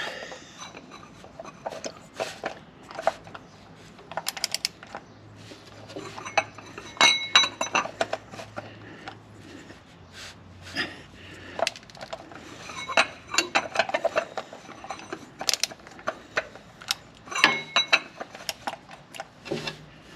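An oil filter being fitted during a DIY oil change on a BMW X5M: scattered metallic clinks, taps and small rattles, close and irregular, with quieter gaps between bursts.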